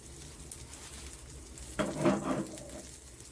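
Eggs with noodlefish fry quietly in a pan over medium-low heat, giving a faint, steady sizzle with a brief louder burst of sound partway through.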